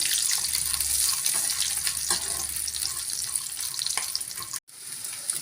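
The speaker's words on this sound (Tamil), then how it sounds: "அஞ்சு பல் பூண்டு சேர்த்துக்கலாம் நல்லா வதக்கி விட்டுக்கலாம்" Five garlic cloves sautéing in a pan for a Tamil raw-banana fry, a loud continuous sizzle and hiss with light stirring, dropping briefly to near silence before resuming.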